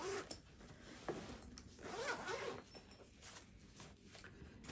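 A zipper is drawn open on a Nomad Lane bento bag in several quick, scratchy pulls, close and fairly quiet, with some soft rustling of fabric between the pulls.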